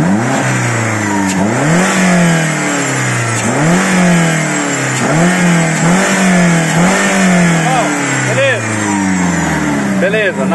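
A Renault Sandero RS engine revved repeatedly during a fuel pump pressure test, loud close swells of rising and falling pitch in a steady rhythm, with voices heard beneath.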